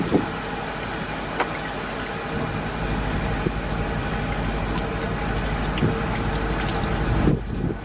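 Water is flushed through the heater core of a 2002 Dodge Ram 1500 pickup, making a continuous close rushing hiss that stays steady throughout, with a few faint knocks.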